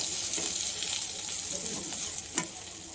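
Ginger, garlic, mint and coriander frying in a pan for a green mushroom gravy, making a loud, continuous crackling sizzle with occasional scraping stirs, close and with no talking.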